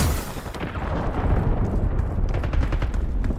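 Gunfire from an online shooter video game comes as dense, rapid bursts of loud shots that blur together into a continuous, booming clatter.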